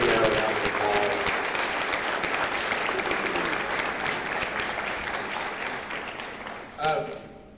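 A standing ovation at a public discussion forum: sustained, dense applause from a large crowd, gradually easing, with a voice briefly heard over the clapping near the start and again toward the end.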